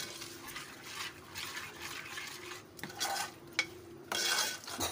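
Yogurt with bay leaf, cardamom, cloves and red chilli being beaten in a bowl for mutton korma: soft, irregular swishing and scraping strokes of a spoon, close and fairly quiet, with occasional louder scrapes.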